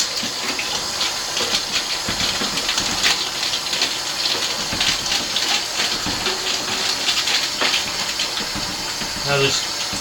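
Tap water runs steadily into a sink while home-brewing a Mr. Beer kit, a continuous hissing splash with brief clinks near the end as someone talks over it.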